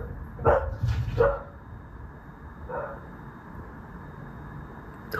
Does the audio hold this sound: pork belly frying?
no